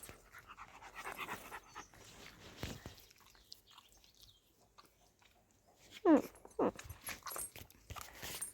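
A dog pants softly and steadily close by, with a couple of louder snuffly bursts partway through; no one speaks.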